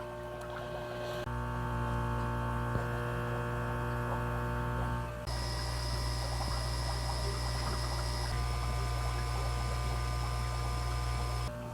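Takasugi HP-80 air blower running, a steady low electric hum with a droning motor tone that changes character midway and grows busier, continuous and close, with no talk.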